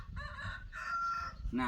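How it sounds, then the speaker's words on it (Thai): A rooster crows at a rural garden home, a close two-part call followed by a brief cluck, with a short spoken word at the end. "เคยได้ยินเสียงไก่ขันบ่ท่านผู้ชม"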